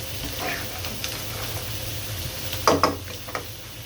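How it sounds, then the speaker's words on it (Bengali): Water poured into a pot of sizzling goat head meat cooked with chickpea lentils, a steady fry hiss giving way to a louder splashing burst near the end, with a couple of light utensil knocks. "পানি দিয়ে দিচ্ছি ঝোলের জন্য।"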